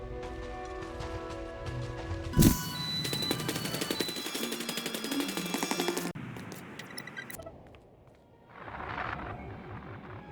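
Sustained heavy gunfire and blaster-like bursts in a Star Wars video game battle, with a sharp impact followed by rapid repeated shots, then quieter game sounds and a renewed burst near the end.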